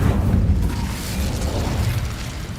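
The Incendio fire spell is cast in the Hogwarts Legacy video game, producing a loud rumbling whoosh of flame with crackling bursts that stays dense and heavy for a couple of seconds.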